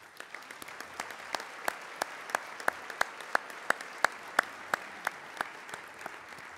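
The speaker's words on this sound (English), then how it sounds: "please hold your applause until I've welcomed everyone" Scattered, faint clapping from a few people at a civic State of the City address, with sharp, evenly spaced single claps rather than full applause.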